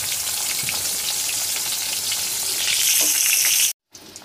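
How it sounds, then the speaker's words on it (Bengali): Pointed gourd fries in oil in a village kitchen, giving a close, steady sizzle with occasional spatters that swells slightly before cutting off abruptly near the end. "আগে পটলটা ভেজে নেব, তারপরে কাঁচকলাটা ভেজে নেব"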